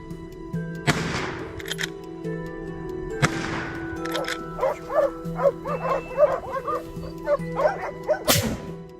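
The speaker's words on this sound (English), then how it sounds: "the dogs' howls echoed through the forest" Hunting dogs bark and yelp in a rugged forest during a feral hog hunt. Sharp loud cracks come first, then a run of rhythmic barks and howls at moderate distance.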